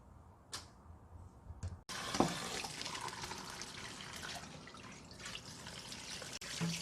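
Cooked noodles for Korean janchi guksu are rinsed under cold running tap water: a brief drip and splash, then the tap gushes in a steady, close rush with faint handling clinks.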